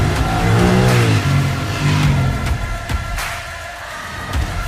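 Honda Rebel 1100 cruiser motorcycle engine, over 90 horsepower, revs loudly and close with rising, sweeping pitch through quick shifts, then settles to a rougher lower drone.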